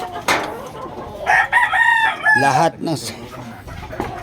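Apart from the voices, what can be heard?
fighting rooster crowing on a house rooftop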